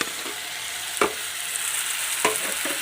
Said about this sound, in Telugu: టమాటా వేసేసుకుంటున్నాను.